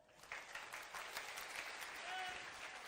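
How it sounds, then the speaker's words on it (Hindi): An audience at a religious darbar gathering in Pandokhar, Madhya Pradesh, bursts into steady applause, many hands clapping together in a continuous, moderately loud wash with a faint voice underneath. "ताली बजा दो"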